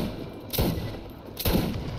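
Shotgun blasts in the video game Borderlands, two loud booming shots about a second apart over a low game ambience.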